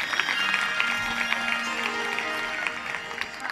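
An audience at a kirtan and Bhagavat katha gathering claps for the performers, giving a dense, continuous wash of applause that stays steady for a few seconds.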